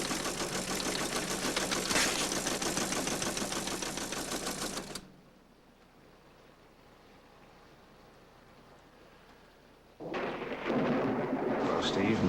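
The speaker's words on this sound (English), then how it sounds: "Steve, no let up in the storm." A thunderstorm with heavy, loud rumbling bursts of thunder and rain for several seconds, a quieter lull, then another loud crash of thunder returning near the end.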